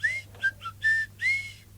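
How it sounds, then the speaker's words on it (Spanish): Whistling between the teeth: five short, bright, reedy notes in quick succession, some gliding upward, sharp and close, each note hissy from air forced through the teeth, with a low steady hum beneath. "él chifla entre dientes"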